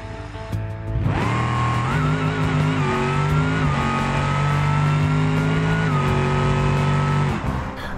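A D-Series truck launches down a drag strip in BeamNG, its engine roaring loud and close as it climbs through several gear shifts, each step up in pitch, then backs off near the end.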